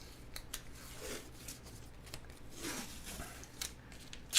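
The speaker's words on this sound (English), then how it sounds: "We'll use some painter's tape here." Painter's tape being handled and cut with scissors during an iMac SSD upgrade, a series of soft, close snips and crinkly tearing rasps at an irregular pace, ending in a louder crisp cut.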